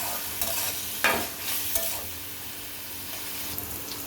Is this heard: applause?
no